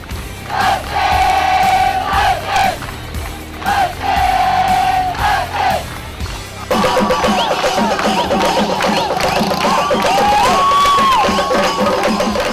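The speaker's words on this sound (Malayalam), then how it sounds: "കൈയടിച്ചും ആർത്തുവിളിച്ചും സാഹസിക പ്രകടനത്തെ കുട്ടികൾ പ്രോത്സാഹിപ്പിച്ചു" Children shout and cheer in a loud crowd at a bike stunt show put on by adventure sports riders, with rhythmic chanted calls in the first half, then a dense continuous roar of yelling and whistles close by.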